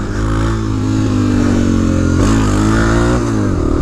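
A BMW GS650 motorcycle engine starts and runs loudly and steadily throughout, its pitch rising and falling with a couple of revs.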